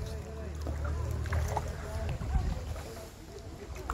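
A kayak glides along the Czarna Hancza river, paddle strokes and water lapping heard close amid wind noise and a low rumble, with voices faintly present.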